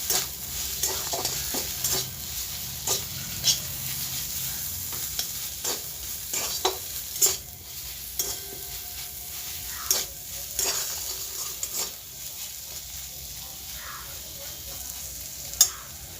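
Komli greens sizzle and fry in a pan with a little white sugar while a utensil stirs them, scraping and clinking in irregular knocks over a steady close hiss; no voices.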